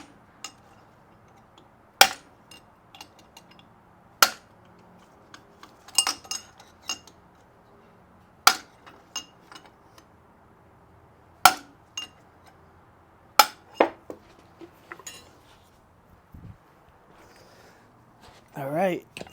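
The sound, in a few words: tapping a punch on a bearing inner race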